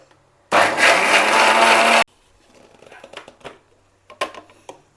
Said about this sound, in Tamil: இப்போ மிக்ஸி ஜாரில் போட்டுச்சு. இப்போது நம்ம கிரைண்ட் பண்ணலாம்.